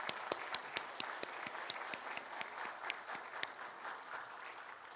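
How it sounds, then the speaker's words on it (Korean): Church congregation applauding to welcome five newly appointed deacons at a Sunday worship service, a steady moderate wash of clapping with sharper individual claps standing out, continuing for several seconds without speech. "우리 한번 큰 박수로 한번 이분들을 환영하겠습니다"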